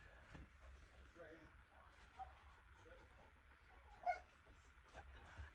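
A dog on a bed gives faint, scattered yips and soft whimpers, with a sharper bark near the end, under a person talking nearby.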